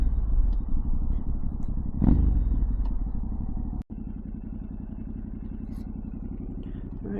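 A 2023 Yamaha Tenere 700 motorcycle rides along, its engine a steady, close, low drone with a brief clattering bump partway through and one sharp dropout, continuing evenly afterward.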